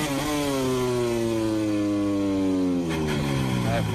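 A MotoGP racing motorcycle screams past at high revs during qualifying at Catalunya 2019. The rising and falling engine whine carries through gear changes, with a second machine joining near the end, under continuous commentary.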